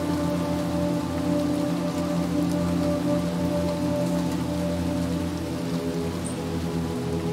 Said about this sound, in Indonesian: Dan di sini hujan.